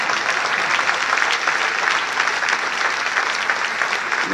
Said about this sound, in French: je ne sais pas si vous avez applaudi